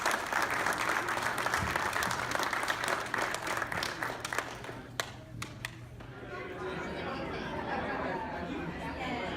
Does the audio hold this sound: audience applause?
yes